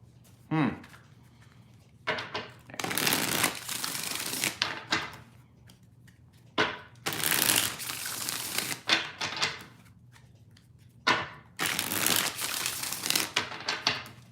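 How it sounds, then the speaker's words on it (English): Tarot cards are shuffled in several bursts of riffling and rustling, separated by short pauses, close and fairly crisp. "Two more shuffles."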